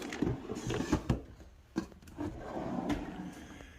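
A workshop tool drawer holding fasteners slides open and shut with a few wooden knocks and rattling contents, close by and fairly quiet.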